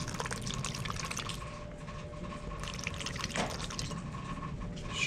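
Pineapple juice pours into a blender over mango pieces, a steady close splashing trickle of liquid lasting several seconds, alone without talk.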